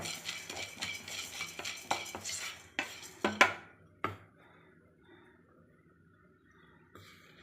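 Spice powder is dry-roasted in a pan, stirred with brisk metal scraping and clinks for a few seconds, ending in a couple of sharp knocks before the pan falls nearly quiet.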